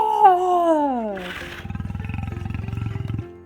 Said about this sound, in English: Lions are big, strong cats, and they roar.